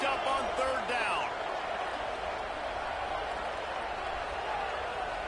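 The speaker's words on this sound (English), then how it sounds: "Crowd getting this defense whipped up on third down." Stadium crowd roars in a football video game during a third-down defensive stand, a steady loud wash of cheering with a commentator talking over it.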